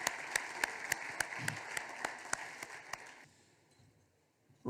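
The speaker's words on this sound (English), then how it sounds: "let's just give Jaco, his team and Hollard a massive round of applause for an awesome season" Scattered hand claps from a small crowd at a gravel and dirt racing awards ceremony, a run of distinct claps that thins out and stops after about three seconds.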